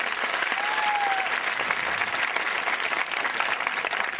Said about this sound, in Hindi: क्या मेरे पुराने साथी एक बार जबरदस्त तालियों से स्वागत कर सकते हैं?